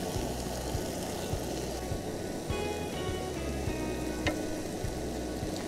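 Tomatoes go into a pan of sizzling onions, and the frying hiss runs loud and continuous with a steady rumbling undertone and faint scraping, close by and without speech.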